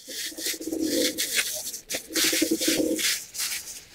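Pigeons on a rooftop cooing in two long, throaty stretches, close by, with soft flutters and scratchy pecking at paddy grain mixed in.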